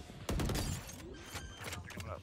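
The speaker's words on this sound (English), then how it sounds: "He broke glass." Glass shattering in the tactical shooter game Valorant, a sudden sharp break followed by tinkling debris and faint game sounds, with a voice speaking over it.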